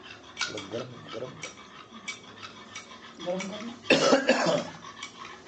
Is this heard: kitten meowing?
no